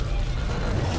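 Weapon reloading in the zombie shooter Back 4 Blood: a brief, close mechanical clack and creak of the gun's action against steady low game rumble.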